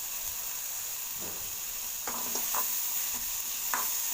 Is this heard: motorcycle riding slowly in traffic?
no